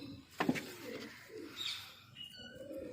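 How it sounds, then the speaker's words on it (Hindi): A pouter pigeon gives low, throaty coos a few times at close range, with faint chirps from other birds in the background. "ये आ गया जी हमारा झोले वाला कबूतर।"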